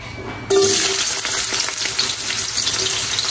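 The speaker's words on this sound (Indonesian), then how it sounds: "Kita tumis dulu untuk bawang merah, bawangnya dan jahenya tadi ya." Shallots and ginger hit a hot pan and sauté with a sudden loud sizzle that settles into steady crackling frying, heard close and alone.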